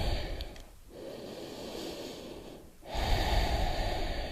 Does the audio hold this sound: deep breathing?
yes